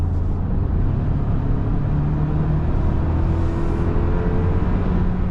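Steady low engine rumble of a 2025 Toyota 4Runner SR5 accelerating on the road, a continuous loud drone with a slowly rising tone heard from inside the cabin, no voices.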